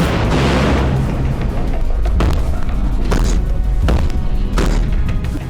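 Russian navy warships firing missiles in a naval display, heard as a series of loud deep booms and roaring blasts, about four in quick succession over continuous rumbling noise.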